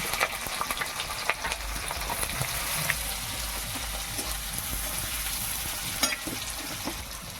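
Whole cumin, bay leaf, green chilli and chopped onion fry in oil with a bright, continuous sizzle, punctuated by a few clinks of stirring.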